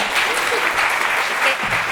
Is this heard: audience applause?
yes